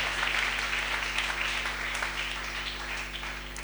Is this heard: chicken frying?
no